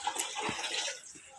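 Water poured into a cooking pot for rice, measured at two parts water to one part rice; a short gush of splashing water, close and moderately loud, lasting about a second before easing off.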